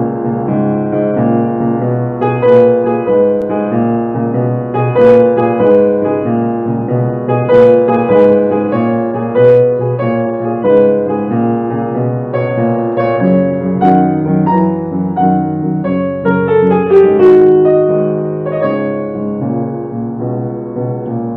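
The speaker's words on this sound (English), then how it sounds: "this is Gershwin's Blue Lullaby" Solo piano plays Gershwin's Blue Lullaby reworked in a blues rhythm, with loud, steady chords and a swinging pulse of close, bright notes and no talking.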